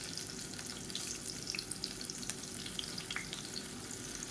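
Raw banana slices frying in hot oil on a flat dosa tawa give a steady, close crackling sizzle with scattered small pops throughout, no voices.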